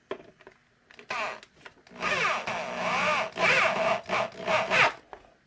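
A drill drives a screw into the wood of a Stratocaster guitar neck, cutting threads in a repaired bolt hole, with close, grinding, rising whirs in several bursts after a few short taps.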